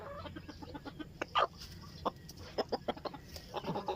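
Several native chickens, some with colds, cluck in short irregular bursts, close by, with soft farmyard background noise and no talking.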